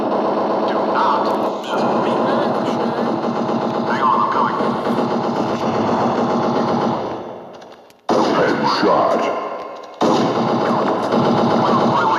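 Gunfire in the Counter-Strike video game, dense rapid automatic bursts, loud and continuous, briefly cut off twice, with game sounds and some voice mixed in.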